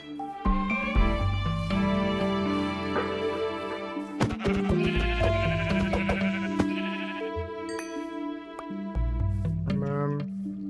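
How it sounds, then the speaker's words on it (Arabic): Sheep in Minecraft bleating repeatedly, several wavering, nasal calls one after another with brief gaps, clear and up front with steady game sounds beneath. "خروف"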